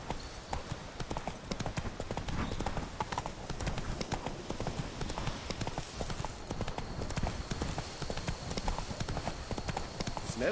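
Roach the horse gallops in The Witcher 3 Blood and Wine, with a continuous quick rhythm of hoofbeats, near and moderately loud, over soft ambient game sound and no talk.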